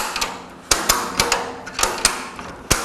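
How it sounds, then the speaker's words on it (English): Ratchet on a power-drive drum rotator cradle tensioning a blue strap around a drum, giving a series of sharp, close metallic clicks in an uneven rhythm with no voices. "Now we need to ratchet this to tension the blue strap"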